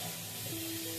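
Boiled soybeans fry in a pan with a constant, dense sizzle that fills the whole brief moment, close and steady, with no voices.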